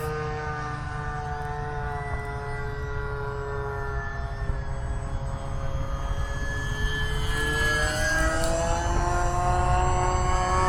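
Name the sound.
E-flite UMX Timber RC plane flying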